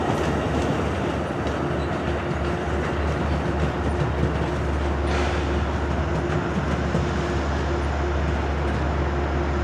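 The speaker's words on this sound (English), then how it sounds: "Amtrak number 48, Lakeshore Limited." Amtrak Lakeshore Limited train cars roll past at Croton-Harmon with a loud, continuous rumble and rhythmic clickety-clack of wheels over rail joints, close by and steady throughout.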